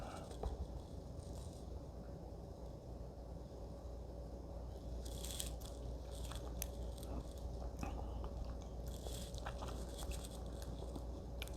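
Pork belly burnt ends glazed with fire honey being eaten, with close, quiet bites and crunchy chewing that repeat steadily throughout. No talking is heard.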